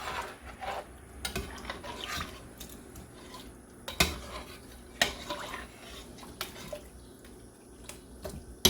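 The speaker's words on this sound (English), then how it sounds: "Kind of stir it up a little bit." A spoon stirs chicken in a Cajun-style red gravy in a pot, making soft wet scraping and a few sharp clinks against the pot rim, quiet and close, with no talk.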